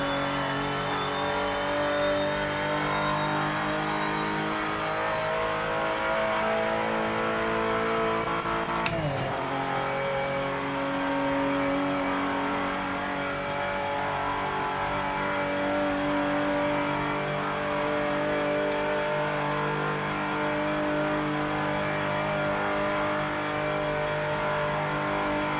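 Race car in Project Motor Racing with its engine droning and revving loud and continuously; a brief shift dip midway, then it keeps pulling at high revs.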